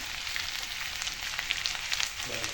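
Vegetable pieces for upma frying in a pan, a steady close sizzle with crackling pops throughout.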